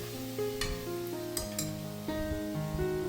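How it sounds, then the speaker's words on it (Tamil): Ginger, garlic and green chili paste sizzles steadily in a hot pan while a spoon stirs and scrapes, with a few light metallic clinks over the continuous frying. "இந்த இஞ்சி, பூண்டு, பச்சை மிளகா இந்த பேஸ்ட் வந்து பச்சை வாசனை போகிற அளவுக்கு நல்லா வதக்கி எடுத்துக்கலாம்"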